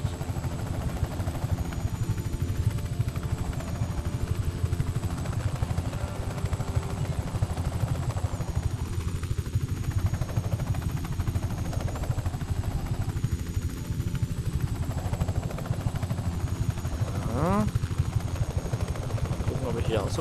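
A helicopter in the video game Just Cause 3 thrums continuously with dense rotor chop and engine noise, while intermittent voices are heard faintly and a brief sharp sweep near the end.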